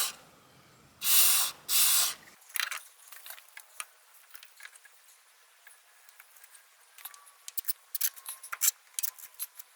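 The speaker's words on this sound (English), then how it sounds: "spray a little bit of silicone grease on there" Silicone grease sprayed onto a sway bar bushing on a Honda during lower control arm work: two close, loud hissing bursts of about a second each, followed by faint clicks and small metallic handling noises.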